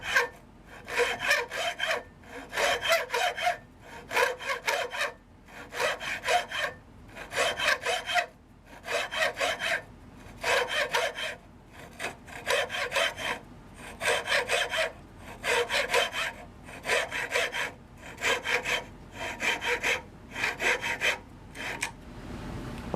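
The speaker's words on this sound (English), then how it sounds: "I'm just going to part it off with a hacksaw." A hacksaw cuts off a turned wooden piece on a mini wood lathe in steady back-and-forth strokes, about twenty rhythmic rasping passes with brief gaps between them, close and clear, with no speech.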